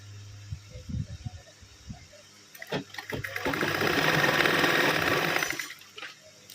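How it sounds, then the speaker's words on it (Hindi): A sewing machine stitches a salwar in short stop-start bursts, then runs in one longer steady whirring stretch before slowing, fairly close and moderately loud. "तो इस तरह से अब हम इस पर सिलाई लगा देते हैं"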